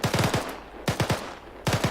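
Rifle fire in short rapid bursts during an infantry exercise, three groups of sharp close shots with brief pauses between them, loud and without talk.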